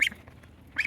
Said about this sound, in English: These are brown Chinese geese, and they're about 3-4 weeks old.